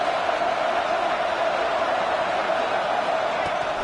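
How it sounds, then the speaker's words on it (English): A fired-up stadium crowd at an early stage of a football game roars in a dense, steady wash of noise with no breaks, filling the whole space. "It's early, but this crowd is fired up. Listen to this noise here."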